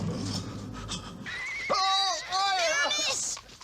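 A horse whinnies loudly in a film trailer, its neigh rising and wavering over about two seconds after a murky stretch of music and voices.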